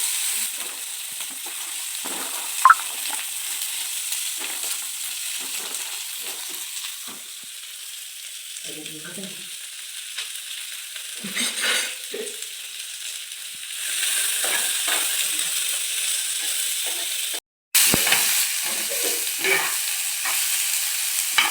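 Corn kernels frying in a little hot oil on a pan give a steady sizzling hiss with scattered crackles and stirring scrapes, close and fairly loud throughout, with no talking.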